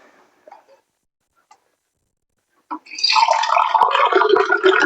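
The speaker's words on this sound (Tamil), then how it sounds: "கொஞ்சம் தண்ணி ஊற்றுங்க" Water poured into a pan for cheese Maggi, a steady splashing stream starting after a few faint taps and continuing loudly to the end.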